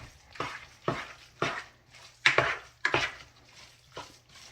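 Ground meat cooking in a pan is stirred and broken up, with rhythmic scraping strokes of the utensil over a low sizzle, each stroke close and distinct.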